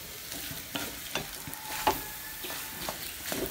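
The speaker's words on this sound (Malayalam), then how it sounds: "ഉരുളക്കിഴങ്ങ് ഇട്ട് കഴിഞ്ഞ് ഇളക്കി കൊടുക്കാം." Potatoes fry in a pan with a soft, constant sizzle while a utensil stirs them in repeated scraping strokes, fairly quiet and close, with no talking.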